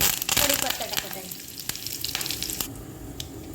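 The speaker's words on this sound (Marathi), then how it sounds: "फोडणी तडतडलेली आहे" Mustard seeds, cumin and fenugreek seeds crackle in hot oil for a tempering for drumstick amti, with a loud, close sizzle and dense popping. The popping is strongest at first, then thins into scattered sharp snaps.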